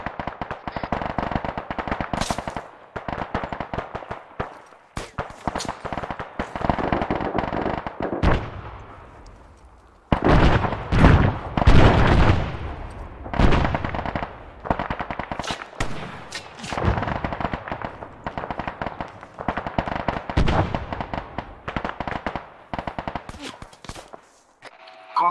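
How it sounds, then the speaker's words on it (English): Gunfire in the military video game ArmA 3, with sniper shots and other weapons cracking repeatedly at close and middle range, heavier bursts midway, and loud continuous battle noise throughout. "We seem to be taking some shots still, so... We're being engaged by a sniper or something."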